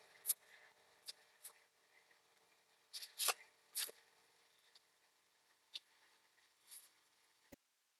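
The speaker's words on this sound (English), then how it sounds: "I think I'll shuffle them like this." Large oversized cards are shuffled by hand in a quiet room, giving soft irregular riffles, slides and taps in scattered bursts, fairly close and faint, with no talking.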